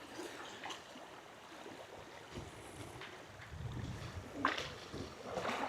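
Strong southerly wind sweeping across a lake in Etelä-Konnevesi National Park ahead of a storm, gusting and buffeting the microphone with faint water sounds beneath, swelling louder toward the end.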